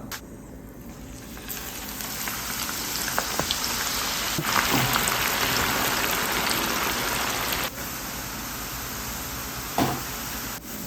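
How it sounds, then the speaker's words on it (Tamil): Onions fry in hot oil with a dense, continuous crackling hiss like heavy rain, loud and close, broken by a few sharp clicks and knocks. "இப்போ நம்ம இதில் ஆனியனை போட்டு நல்லா கோல்டன் ப்ரௌனாக பொரிச்சு எடுத்துக்கலாம்"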